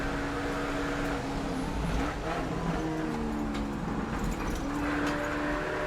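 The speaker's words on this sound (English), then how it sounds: "He's actually blipping the throttle on the downshift. He's trying to rev match, you know?" A BMW 318 engine blips its throttle on downshifts to rev match, the revs rising and falling in several quick, pitch-shifting bursts over a continuous car drone.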